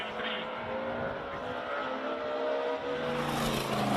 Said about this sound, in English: What a great sounding all four-cylinder E30 M3.